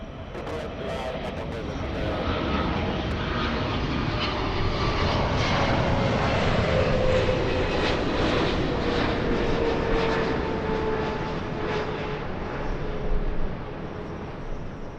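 A JetBlue jet airliner takes off from runway 24 left at LAX, a loud, steady engine roar that builds and holds with a shifting whine, heard from near the runway without voices.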